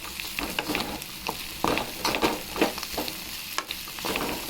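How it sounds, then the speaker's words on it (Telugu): A spoon scrapes and stirs okra curry sprinkled with masala powder in a pan, with irregular clinks and scrapes over a soft sizzle, close and moderately loud, without speech. "కొంచెం మసాలా పొడి చల్లుకొని బాగా కలిపేసుకోవాలి ఈ విధంగా"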